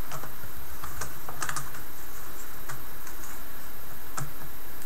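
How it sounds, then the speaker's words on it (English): A new keyboard is slid into place on a Dell Latitude E6510 laptop, giving scattered light plastic clicks and taps at close range with a faint hiss underneath and no talking. "take the new keyboard and slide that in place"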